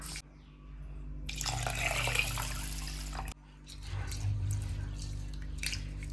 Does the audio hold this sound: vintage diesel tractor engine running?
no